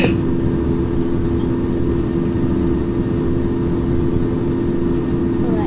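Airplane engine at takeoff in a random-wheel airplane game, a loud steady low drone with a constant hum, unchanging for several seconds.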